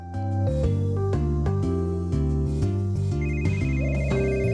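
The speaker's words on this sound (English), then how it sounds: "The phone rings again." A telephone ringtone from a detective video game on the Nintendo 3DS plays as a loud, steady electronic melody of repeated bright tones, continuous and alone.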